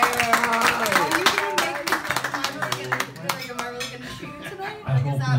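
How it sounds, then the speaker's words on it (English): Audience applause at a comedy stage show, a crowd clapping in brisk bursts while voices talk over it and laughter mixes in. "round of applause for her"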